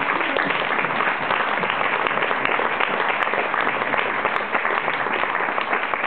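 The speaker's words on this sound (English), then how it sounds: "I'd just like to get another applause for your great film." Steady, continuous applause from an audience at a film event, a full and even sound of clapping hands throughout with no break.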